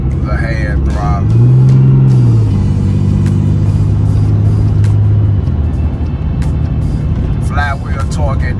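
A diesel Ram truck engine idles loudly, then revs up on its hand throttle, holds at a raised, steady drone for a few seconds and settles back to idle. Voices talk over it near the start and end.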